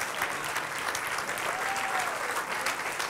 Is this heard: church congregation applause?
yes